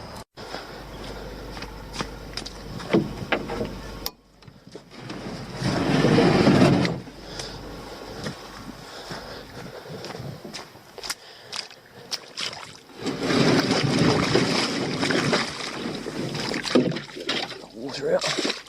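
A dinghy rowed out on the sea in drizzle, with oars working the water in two loud surging stretches of splash and slosh, under and between bouts of talk.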